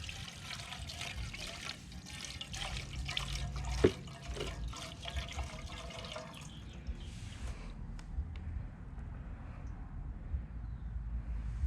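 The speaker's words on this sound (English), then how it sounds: "we're just gonna pour that baby out" Gasoline pours from the fuel tank of a Stihl MS 290 chainsaw, a steady liquid splash and trickle at close range that thins toward the end, with no talk over it.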